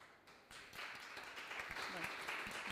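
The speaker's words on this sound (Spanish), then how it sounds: "Nos aplaudimos entre todos." Audience applause building from quiet to a dense, steady clapping, with a voice briefly audible among the claps.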